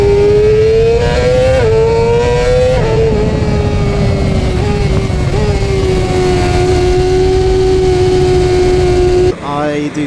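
A BMW motorcycle used for track days and quarter-mile runs holds a loud, steady engine drone with slight rises and dips in pitch, close by, before cutting off sharply near the end.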